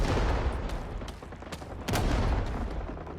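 Gunfire in a first-person shooter video game, a dense stream of sharp bursts and booms with louder cracks standing out, no talk.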